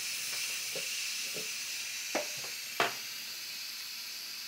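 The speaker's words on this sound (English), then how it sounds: "I'm going to empty the steam out of it, which is a dangerous thing to do." Steam hisses steadily out of a Cosori multi cooker during a quick release while spaghetti squash cooks, a close, even rush broken by a few soft clicks and taps.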